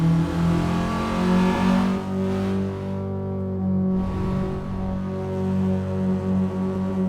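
A Honda Civic engine in Assetto Corsa revs hard and steadily, its loud, buzzing, harmonic-rich note rising and holding with a brief dip mid-way, close and continuous with no talk over it.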